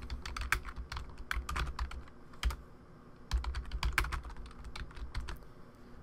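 Keys clatter in quick irregular bursts on a computer keyboard nearby, a soft steady typing with one short pause midway and no talk.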